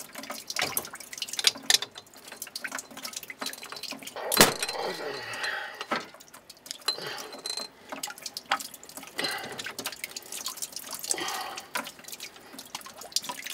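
Water keeps trickling and dripping from a plumbing line shut off at a ball valve, with irregular close splashes and drips and one sharper knock partway through.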